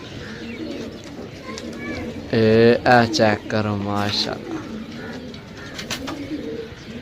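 A burst of low, throaty pigeon cooing sounds up close for about two seconds, with someone speaking briefly nearby and background noise around it, in Pakistan.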